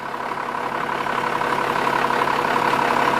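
A Cummins diesel at the back of a rear-engine pusher bus hums at a steady, even drone, holding a constant loud level with no voices over it.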